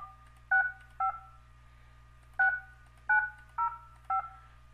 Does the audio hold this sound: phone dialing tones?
yes